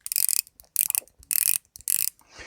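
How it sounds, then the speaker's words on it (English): A rapid burst of light, tinny ratcheting clicks from a Sekonda 200m watch's 120-click bezel being rotated, repeated in four short runs with brief pauses, close and crisp, with no voices. "It does have a 120 click bezel, very light."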